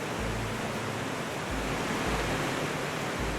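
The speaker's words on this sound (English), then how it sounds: "Here, hidden among the hills, is one of Patagonia's most impressive waterfalls," Salto del Agrio, a Patagonian waterfall fed by acidic, mineral-rich water from the Copahu volcano, gives a steady, dense, full roar of falling water with no break and no voices.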